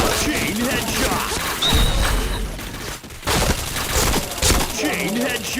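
Rapid bursts of gunfire and explosions from a first-person shooter video game, dense and loud throughout, with a short drop to near-silence midway and players talking over it.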